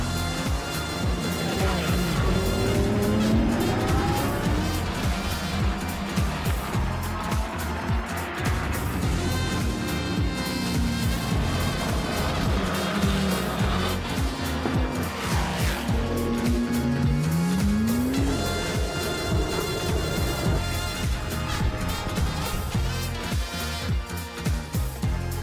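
Race cars on the Estoril circuit driving deep into a corner during a winter series round, engines droning continuously and loudly with rising and falling pitch sweeps as cars brake and accelerate, dense and steady throughout.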